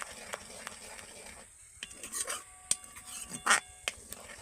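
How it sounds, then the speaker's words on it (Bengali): Carrot and milk mixture stirred continuously in a pan, soft scraping and rubbing strokes with light clinks of the utensil against the metal, fairly quiet and close. "এইভাবে অনবরত নেড়ে নেড়ে যেতে হবে"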